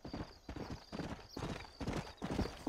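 A war horse's hooves clip-clop at a steady trotting rhythm in Red Dead Redemption, close and clear, with a brief whinny.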